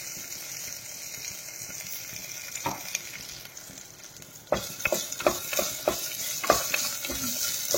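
Ginger garlic paste frying in a pan gives a soft, steady sizzle, joined midway by a run of close, sharp clicks and scrapes as a utensil stirs, growing louder toward the end; nobody speaks.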